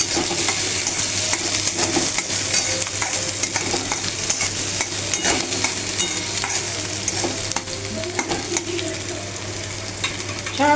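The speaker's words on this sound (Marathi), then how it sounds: "छानपैकी कांदा परतून घेतलाय" Onion sautés in a pan with vigorous, steady stirring: a loud, continuous sizzle overlaid with repeated scraping and clinking of a spatula against the metal, close up.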